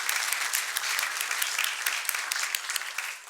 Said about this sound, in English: So let me first give a big round of applause to Mike